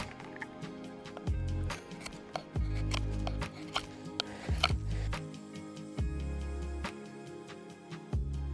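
A knife shaping a fresh wooden bow drill plank outdoors, making repeated scraping and cutting strokes with dull knocks of wood against a hard surface, about a dozen close, steady strokes with no talking.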